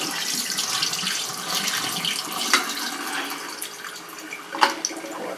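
Liquid from a big can of yams poured off into a kitchen sink, a steady trickling splash with a couple of sharper clunks and gurgles, close and moderately loud with no talking.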